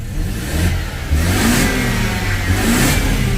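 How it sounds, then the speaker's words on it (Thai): A Mercedes W212 E200 engine, previously prone to shaking and surging, is revved from inside the car in a few rising bursts of mid-pitched engine roar, close and loud, settling back between each push. "เดี๋ยวจะลองเร่งดูครับว่า เครื่องจะกระพือหรือสั่นไหมครับ"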